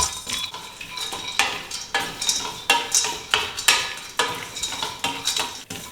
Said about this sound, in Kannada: ನಾವು ಫಸ್ಟ್ಗೆ ಕಟ್ ಮಾಡ್ಕೊಂಡಿದ್ವಲ್ವ ಬಾದಾಮಿ, ಪಿಸ್ತಾ, ಕಾಜು, ಅದು 3ನ್ನ ಹಾಕ್ತಾಯಿದ್ದೀನಿ